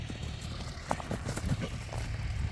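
A horse's hooves clip-clop in an uneven, lively rhythm, with several distinct hoofbeats standing out over a steady rumbling outdoor background.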